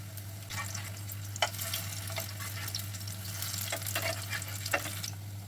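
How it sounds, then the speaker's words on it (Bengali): Chicken keema kebabs shallow-frying in oil over a low flame, a soft steady sizzle with a few sharp spatters and pops over a low hum. "লো ফ্লেমে সুন্দর করে আমি কাবাবগুলোকে ভেজে নেবো।"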